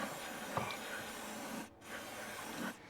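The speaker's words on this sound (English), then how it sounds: "So I've got some brake cleaner." Brake cleaner hisses from an aerosol can onto an oil filter mating surface during a Fiat Ducato service, two faint spray bursts close by.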